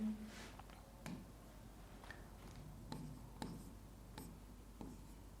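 Someone writes the number 8 by hand, heard as soft, scratchy pen strokes in a few short, separate bursts against a quiet background.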